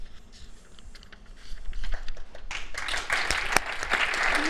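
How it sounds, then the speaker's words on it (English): Audience applause at a housing summit, starting sparse and quiet then swelling into dense, sustained clapping from a crowd, fairly close and steady toward the end. "Clapping for you."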